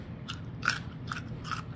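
Crisp, crunchy bites into pickled Jerusalem artichoke, a sour root pickle, heard as four close separate crunches in a quiet room with low background hum.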